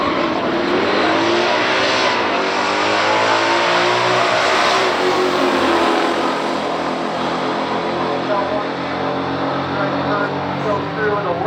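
A 1969 Camaro ZL1 with an all-aluminum 427 and Turbo 400 automatic drag races a 1969 Yenko Camaro 427 in pure stock class: loud, sustained engine roar rising and shifting as the cars accelerate down the strip, with an announcer talking over it.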